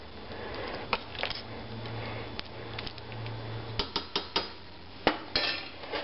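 Hamburger soup with bouillon cubes is stirred in a pot, a spoon clinking and knocking against the sides in irregular taps, louder bursts toward the end, with a low hum underneath.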